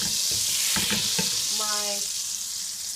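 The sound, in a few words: olive oil frying in a hot pan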